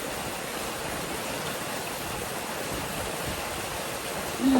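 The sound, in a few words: rain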